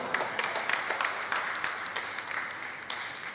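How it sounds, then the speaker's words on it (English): A seminar audience breaks into applause, a steady crackle of many hands clapping at moderate distance for a few seconds with no speech. "Please, let's give him a round of applause one more time."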